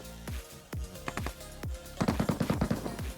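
Gunfire in PUBG Mobile (Metro Royale mode): a few single heavy shots spaced apart, then a rapid automatic burst near the end, loud and close with no voices.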